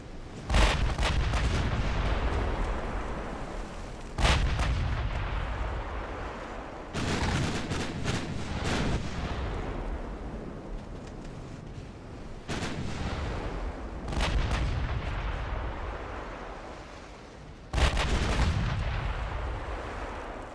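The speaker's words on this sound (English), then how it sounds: "16-inch guns for the Osaka." 16-inch naval guns fire repeatedly in the naval battle game Ultimate Admiral Dreadnoughts, a series of loud booming salvos spaced a few seconds apart, each blast decaying into a long rumbling tail.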